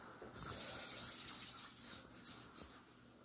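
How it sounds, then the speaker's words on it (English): Tap water runs into a sink as hands are washed under it, a soft, steady gushing splash with slight shifts as the flow is interrupted, fairly faint and alone. "So before that, I'm going to wash my hands."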